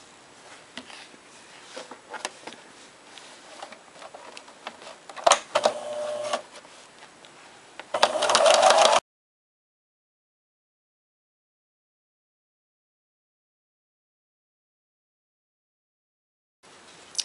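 A sewing machine stitching a fabric pattern piece, a rapid mechanical whirring in short bursts that builds to a louder run, then cuts to silence before a brief return near the end.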